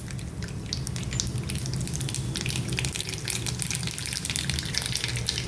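Mustard seeds dropped into hot oil for South Indian lemon rice give a loud, steady sizzle, with dense crackling and popping that runs without a break and with no talk.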